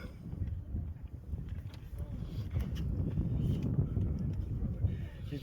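Wind blows across the hilltop at Rennes-le-Château, a steady low rumble buffeting the microphone for the whole stretch, with faint voices in the background.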